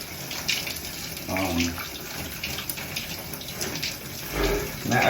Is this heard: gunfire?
no